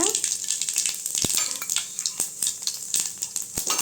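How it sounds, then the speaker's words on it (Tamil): Mustard seeds and cumin fry in hot oil in a heated pan, giving a dense, steady crackling sizzle close by with sharp little pops scattered throughout and no talk. "இப்போ சட்டி சூடானது எண்ணெய் ஊற்றிக்கிட்டேங்க அடுத்து கடுகு போட்டுக்கலாம் ஜீரகம் போட்டுக்கலாங்க"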